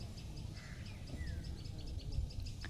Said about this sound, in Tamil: ஏதோ ஒரு சில குருவிகள் தான் இந்த மாதிரி இருக்குது.